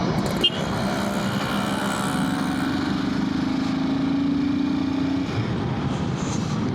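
Royal Enfield Himalayan 450 motorcycle engine droning steadily while riding, with a sustained rising hum in the middle, loud and close with wind noise throughout.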